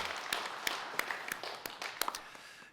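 A church congregation gives a round of clapping during a Sunday service, sharp separate claps landing in a quick, fairly steady rhythm, moderately close and without talk.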